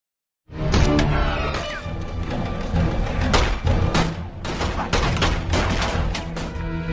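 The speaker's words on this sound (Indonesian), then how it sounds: "Adegan kejar-kejaran dan tembak-tembakan pun tidak bisa dihindari." Gunfire in a movie shootout involving a former marine taking on a mafia gang: dense, loud bursts of shots and impacts fire almost continuously for several seconds, mixed with booming hits and action-film sound effects.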